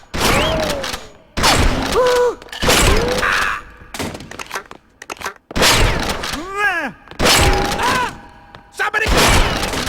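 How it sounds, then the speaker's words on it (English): Shotgun blasts in Perfect Dark Zero: several loud, booming shots spaced across the clip, mixed with shouting voices, pained cries and music-like tones between the bursts. "And we're going to put the shotgun to use."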